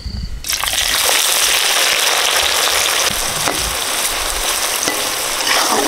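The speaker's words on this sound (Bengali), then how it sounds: "পেঁয়াজ বেরেস্তা করবো, সাদা তেল দিয়ে দিচ্ছি। পেঁয়াজ দিয়ে দিচ্ছি।" Sliced onions hiss and crackle in hot white oil, fried crisp for a chicken dum biryani; a loud, steady, close sizzle that starts abruptly and runs unbroken, with no voices.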